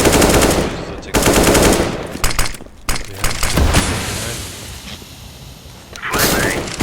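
Dense video game gunfire in a competitive shooter round: rapid automatic bursts and sharp shots up close, a loud flashbang-like blast and ringing, with brief spoken callouts mixed in.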